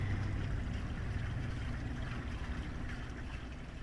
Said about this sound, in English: and there's draining